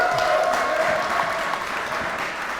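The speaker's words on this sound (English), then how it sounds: "let's hold for a round of applause" An audience claps at a giant robot duel between MegaBots' Eagle Prime and Suidobashi Heavy Industries' Kuratas, a dense, steady wash of many hands from a crowd that keeps going for the whole stretch.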